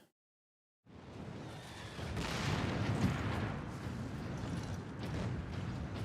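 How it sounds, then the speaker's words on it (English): Bolter rifle from Warhammer 40k Space Marine firing self-propelled explosive-tipped rounds, a dense, loud barrage of booming blasts that begins after a moment of silence and continues steadily to the end. "The 998 Godwin pattern bolter is the characteristic Space Marine battle rifle, firing self-propelled explosive-tipped rounds"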